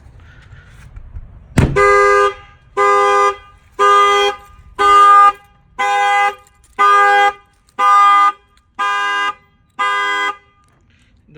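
A Jeep Rubicon car alarm set off by a shock sensor add-on blares nine loud, evenly spaced horn honks after a sharp knock, then stops, heard alone up close.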